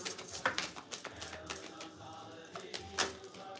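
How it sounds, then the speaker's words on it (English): A deck of cards being shuffled, heard as quiet, close riffling and snapping bursts that come in uneven clusters across a few seconds, with no talking. "Last shuffle, Spirit"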